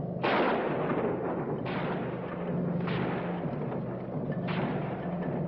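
Gunfire in a 1960 war film about a ski troop attack: four sharp, loud shots about a second apart, each with a booming tail that echoes out, over a steady background rumble.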